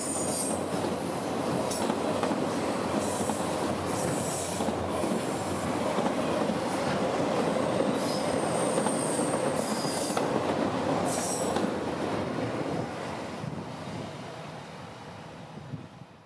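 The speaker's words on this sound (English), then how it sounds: "Two more GE wide cabs would power this train south today, with the usual consist for Miami and racks for Palm Center" Southbound freight train hauling autoracks behind two GE wide-cab locomotives, heard as a long, loud, steady rumble of passing cars with intermittent high wheel squeals, slowly fading toward the end.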